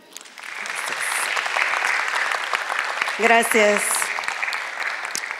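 Steady audience applause in an auditorium welcoming a speaker at a book presentation, many hands clapping throughout while a voice briefly speaks over it near the middle.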